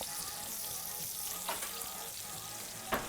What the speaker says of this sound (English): It's almost like frying, but it's not because we're pan searing.